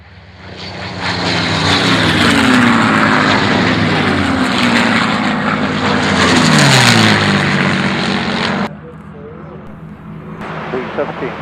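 Four P-51 Mustang propeller fighters roar past in a flypast at the Duxford Flying Legends airshow, a loud sustained engine drone that swells twice and shifts in pitch as they pass, then drops off abruptly near the end.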